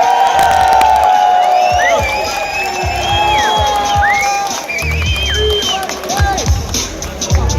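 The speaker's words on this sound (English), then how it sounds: "Everybody give a big round of applause for our Importfest 2018 Bikini Contest winner." A crowd at the Importfest 2018 bikini contest cheers and whoops loudly for the announced winner, with shrill whistles and shouts rising over a dense, steady roar that keeps going throughout.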